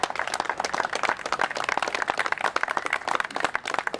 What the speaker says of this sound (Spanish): Pido un aplauso para los compañeros.